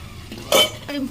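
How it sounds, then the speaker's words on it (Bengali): A lid is set on a pot of soybeans and potatoes: one sharp metallic clank of lid on pot rim, followed by a softer scrape, close and brief. "এবারে ঢেকে দেবো আবার ঢেকে দিয়ে আরো কিছুক্ষণ কষিয়ে নেবো"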